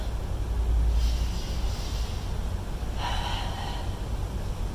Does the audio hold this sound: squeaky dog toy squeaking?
no